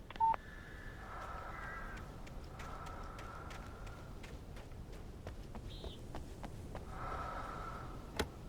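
In the video game Alan Wake, crows caw in a series of harsh calls, some short and repeated, others drawn out, heard at moderate distance over a dark ambient backdrop with scattered sharp clicks.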